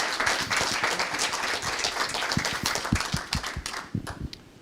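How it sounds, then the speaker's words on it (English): Meeting audience applauding at the close of a public session of a national big data innovation hubs gathering, dense steady clapping that thins out toward the end with a few separate claps. "Let's give them a round of applause"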